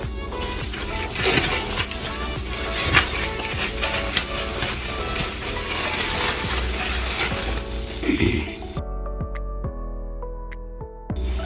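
Liquid drained from cooked oxtails in a hot cooking bag, heard as a continuous close splashing, trickling pour with clattering, ending in a few sparse drips and clinks near the end.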